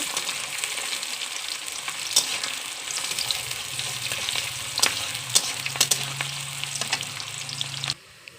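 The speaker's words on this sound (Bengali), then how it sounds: "পেঁয়াজটা লাল লাল করে ভেজে নেব।" Onions fry in oil with dried red chilli, bay leaf and a little sugar, a steady close crackling sizzle with occasional sharp spatters and stirs; a low steady hum joins partway, and the sound cuts off near the end.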